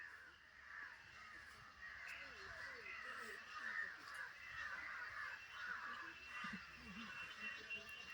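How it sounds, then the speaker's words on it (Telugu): Birds returning to their nests at dusk near the Sringeri Sharada Peetham temple grounds, with crows cawing repeatedly in a faint, distant, continuous chorus. "సాయం సంధ్యలో పక్షుల కిలకిలలు అన్నీ గూటికి చేరుకుంటున్నాయి"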